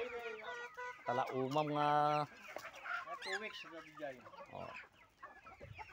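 Silkie chickens cluck and squawk up close in a rapid, busy run, one drawn-out call standing out, while people talk nearby.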